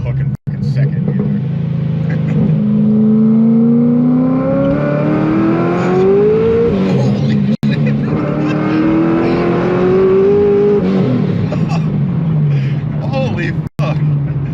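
A supercharged C6 Corvette Z06 engine, around 1000 hp, revs and accelerates through rising gear pulls, loud and close, with a brief drop between shifts and voices talking over it.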